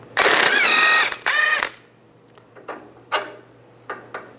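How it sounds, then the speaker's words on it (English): A socket wrench ratchets a 17mm nut off a sway bar link stud on a 2005-15 Nissan Xterra, two quick loud ratcheting bursts followed by a few faint metallic clicks and taps. "Use a 19mm wrench on the back side of here to keep the stud from spinning, and then a 17mm socket. Take this nut off."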